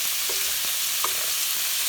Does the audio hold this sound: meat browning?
yes